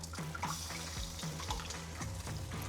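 Hot liquid poured over carrots and potatoes in a pan, a steady close splashing and gurgling stream running continuously, faint sizzle beneath, no talk.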